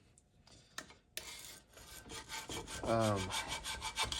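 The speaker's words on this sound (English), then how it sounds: "it is an awesome gasket scraper" A gasket scraper working across an engine cylinder head during head prep, giving a faint rhythmic scraping with a few sharp clicks at the start and a short voiced sound midway.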